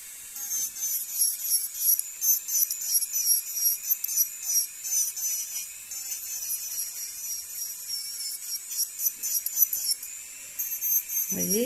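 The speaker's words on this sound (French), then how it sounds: "je raccourcis en même temps avec ma ponceuse." An electric nail sander shortens a nail during removal of American capsule nail tips, a high, thin whine pulsing in quick repeated strokes, close and steady, ending with a brief low bump.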